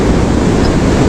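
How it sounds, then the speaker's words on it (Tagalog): Big ocean waves crash and surge loudly and continuously near a moored fishing boat on the shore, a dense roar of surf and wind with no voices. "Malalaki nga ang alon."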